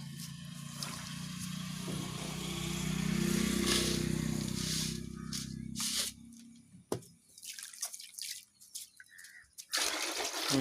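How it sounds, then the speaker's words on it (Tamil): Warm salted water is poured into a basin for a foot soak, a continuous splashing stream that swells then breaks into irregular drips and trickles. "ஊற்றுங்க தம்பி தண்ணியை நல்லா ஊற்றுங்க"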